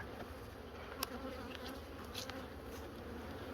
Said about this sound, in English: there's still quite a few bees in there